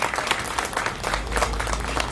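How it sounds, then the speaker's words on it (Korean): Crowd at a memorial gathering applauding in encouragement, a loud, dense, continuous burst of many hands clapping with no pauses. "격려의 박수로 크게 한번 쳐주시면 좋겠습니다."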